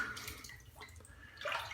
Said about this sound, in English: Drip, as always, a little bit of water on the face of the brush.